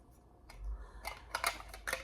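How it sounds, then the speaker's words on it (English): A few small metallic clicks and snaps as little foldable scissors from a small tin are opened, close and quiet. "a pair of foldable scissors, these open up"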